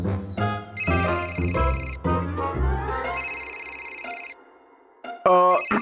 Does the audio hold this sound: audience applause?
no